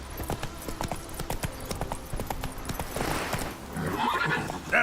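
A horse gallops in The Witcher 3, with rapid hoofbeats thudding close and steady, then a neigh rising near the end.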